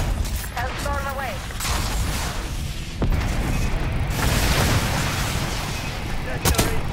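A missile explosion in Call of Duty: Black Ops 6 arrives as heavy booms and a sharp crack amid ongoing gunfire, with talking mixed into the loud combat.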